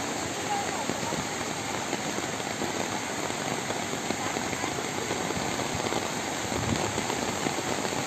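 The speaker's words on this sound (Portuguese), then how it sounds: "mas a chuva veio mesmo" Heavy rain pours steadily during a storm in Cabo Verde, a dense, constant hiss of water with no pauses, fairly loud and uniform throughout.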